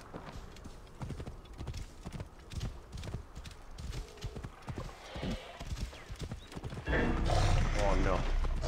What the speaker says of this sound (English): His new horse buddy.